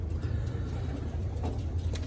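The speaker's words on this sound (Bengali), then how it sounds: "এগুলো সব পায়রা" Pigeons kept in a loft, soft low cooing murmurs repeating continuously over a steady background hum, fairly close and moderately quiet.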